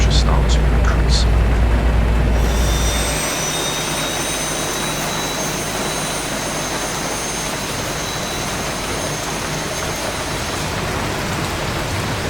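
A jet engine spools up during start in the X-Plane 11 flight simulator, a loud, steady turbine roar with a high whine rising in pitch. A voice talks over the start at times.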